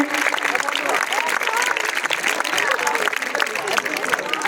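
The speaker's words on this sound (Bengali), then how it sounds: "সবাই হাততালি দিয়ে, সবাই হাততালি, সবাই হাততালি।" Crowd clapping at a school annual sports torch run, steady dense applause with lively background chatter and shouts mixed in.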